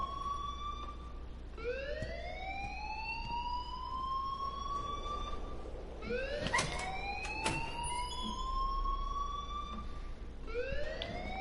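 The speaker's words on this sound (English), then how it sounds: "please turn off that alarm since that's your job" An alarm in the video game Life is Strange rings with rising, wailing siren sweeps that repeat about every two to three seconds, steady and moderately loud over a low background hum.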